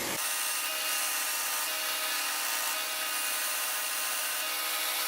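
A homemade belt sander grinding metal, a steady harsh abrasive hiss and whine starting abruptly and running continuously, close and loud with no talking.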